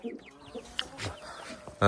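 Chickens cluck and chirp softly at close range, with scattered short calls and a sudden louder burst at the very end.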